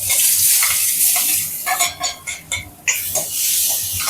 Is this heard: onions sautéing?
yes